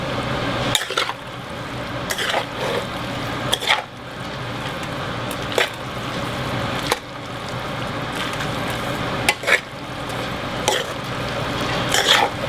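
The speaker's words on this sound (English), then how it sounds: "And I'll keep stirring and stirring. And get that sauce all mixed in there." Stir-fry noodles and sauce being stirred in a pan on the stove, giving a steady wet squishing and scraping with periodic sharp clinks of the utensil against the pan, close and fairly loud, with no voices.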